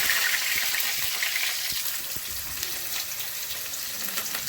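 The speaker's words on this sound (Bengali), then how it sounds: "জিরে গরম মশলা ফোড়ন করছি" Cumin, garam masala and two bay leaves sizzle in hot mustard oil for a bengali potato dum, a steady loud hiss with faint crackles throughout, no voices.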